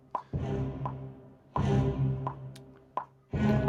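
Music played over a steady click track, with sustained low tones and bursts of struck percussion recurring roughly every second and a half, clear and fairly loud with no talking.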